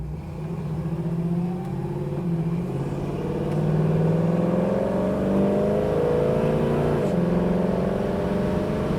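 1965 Chevrolet Nova SS with a manual shift, cruising in traffic on an afternoon test drive, its engine droning and rising in pitch as it accelerates, moderately loud and steady from inside the car.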